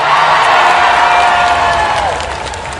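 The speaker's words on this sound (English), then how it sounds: "Macaulay Culkin triumphs in this fight and is celebrated by the cheering crowd." Cheering crowd at a video-game jousting tournament, a dense wash of cheers, whoops and applause held loud throughout, easing slightly toward the end.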